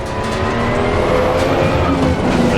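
Ferrari 296 GT3 race car in the Assetto Corsa Competizione racing sim, engine held high near the rev limit with a steady, loud, sustained wail and some tire noise.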